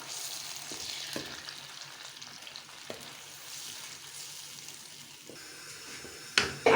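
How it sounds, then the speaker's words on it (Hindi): Spice paste for a chicken korma frying in hot oil, a steady close sizzle with a few soft stirring scrapes and a louder clatter near the end, no voices. "अब हम इसको 5 मिनट अच्छी तरह भुनेंगे।"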